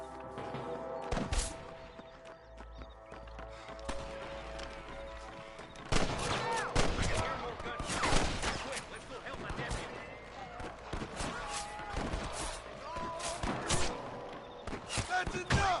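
Gunfire in a Red Dead Redemption shootout, a series of sharp shots and heavier bursts scattered over the stretch, loud and close, mixed with voices talking and game music.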